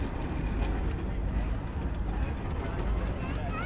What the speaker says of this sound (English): the big steam engines are going round the arena